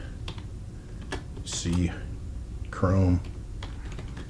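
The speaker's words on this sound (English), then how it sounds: "I am so sorry I'm typing, guys." Computer keyboard typing in quick scattered clicks close to the microphone, heard under someone talking briefly twice.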